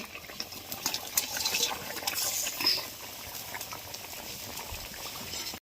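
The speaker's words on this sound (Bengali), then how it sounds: "সিদ্ধ হয়ে যাবে ভালো মাছগুলো দিয়ে দিচ্ছি" A light tilapia curry with potato, eggplant and lentil dumplings bubbles in a pot as the fish pieces go in. Close, soft boiling and liquid gurgles are heard with a few faint splashes and stirring sounds, and no talking.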